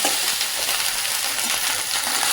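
Okra fries in a pan with a constant, loud, crackling sizzle and scattered pops, up close and uninterrupted.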